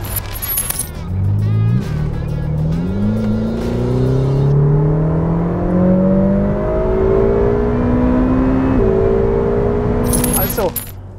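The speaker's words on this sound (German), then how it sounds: "Also, Serie im Auto drin, beim Durchbeschleunigen haben wir 95 Dezibel. Ist schön, hört sich auch sehr kernig, sehr schön an." A stock Ferrari F8 Spider accelerates hard from inside the cabin, its engine note climbing through successive gear pulls with brief drops at each shift, loud and sustained, with faint jangling at the start and end.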